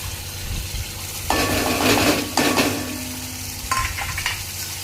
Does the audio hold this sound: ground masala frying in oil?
yes